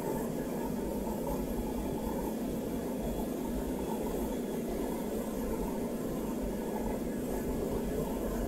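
An Airbus A380-800 taking off from Abu Dhabi in a flight simulator, a steady, dense roar of jet engines rumbling continuously at constant loudness throughout.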